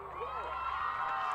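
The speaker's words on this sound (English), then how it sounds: "Listen to the crowd liking that here at Smithfield." A crowd cheers a goal at a college soccer game at Smithfield, a sustained roar of shouting and cheering with a commentator talking over it.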